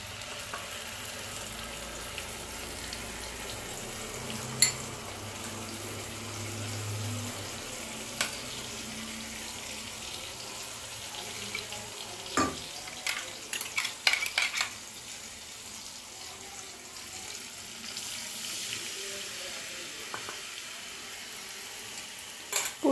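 Ground mustard and whole cumin paste frying in a wok for Bengali parshe fish curry, a low steady sizzle with scattered scrapes and clinks of stirring, no voices.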